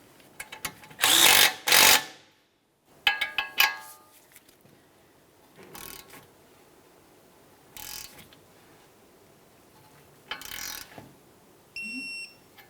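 A wrench works the lower ball joint nut on a 2003-2007 Honda Accord front hub, giving several bursts of rapid ratcheting clicks separated by pauses, followed by a short electronic beep at the end.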